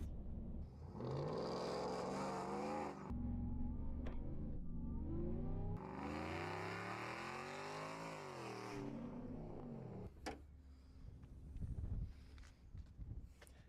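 A truck engine fitted with a 3-liter Whipple supercharger revs hard in several long, loud surges, its pitch rising and falling with each blip of the throttle. Quieter idling and rattling follow, with no talking.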